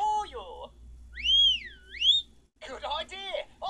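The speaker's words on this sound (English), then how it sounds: "We'll have to whistle for you." A single rising and falling whistle sounds between bits of speech, clear and fairly close.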